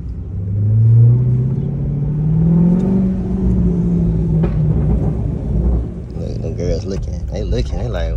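A car engine runs and revs after warming up, with a deep rumbling drone that swells and falls close by, and a voice cuts in toward the end.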